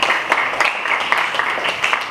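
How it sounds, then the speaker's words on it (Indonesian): A school class bursts into brief group applause during a religious education lesson, a quick patter of many hands clapping close by. "tepuk tangan"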